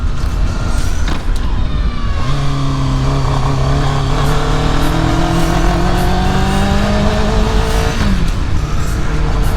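A motorcycle engine runs rough and loses power on a winding mountain road, droning loudly and steadily with wavering, uneven pitch and no talking over it.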